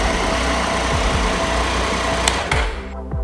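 Motorcycle engine idling steadily with a low rumble, then a short click and the engine winding down to silence as it is switched off near the end.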